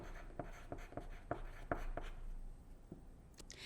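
A pencil writes a single word on paper, a run of close, faint scratchy strokes and taps in a quiet room, pausing near the end.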